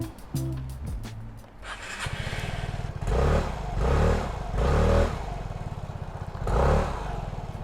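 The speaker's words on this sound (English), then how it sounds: "I still think we should do the mandatory sound test" A Kawasaki scooter engine starts with some clatter, then idles with a steady throb and is revved several times in short bursts, each rise and fall clearly audible up close.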